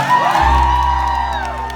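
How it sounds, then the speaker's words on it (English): Crowd cheering and whooping with applause fills a concert in Vancouver during a world tour, a loud sustained roar with shouts rising over a low musical drone, steady for the whole stretch. "Can we give him a round of applause?"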